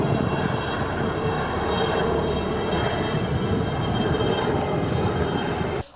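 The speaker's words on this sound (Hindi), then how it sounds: "सेना के हेलीकॉप्टर राजौरी के कंडी के जंगल के आसपास मंडरा रहे" An army helicopter hovers over forest near Kandi in Rajouri, giving a continuous, fairly loud engine and rotor drone with a whining tonal hum. The sound holds steady without speech and cuts off abruptly at the very end.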